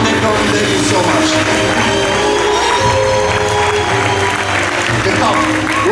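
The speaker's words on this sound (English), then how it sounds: "keep that applause going, ladies and gentlemen" An audience at a theme park magic show applauds steadily and loudly for several seconds while someone speaks into a microphone over the clapping.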